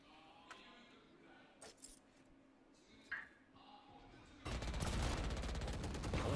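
Gunfire in a Valorant esports match between T1 and BLD: a few sharp, faint shots under quiet ambience, then a loud, dense burst of rapid firing filling the last two seconds.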